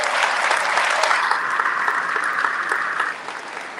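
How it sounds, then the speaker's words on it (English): A dense crowd applauds steadily for a speech's closing encouragement, loud and sustained, easing slightly near the end. "Can we just keep clapping again?"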